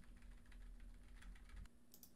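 Faint arrow-key presses on a computer keyboard give a few soft, separate clicks over a quiet hum, ending in a slightly sharper pair of taps.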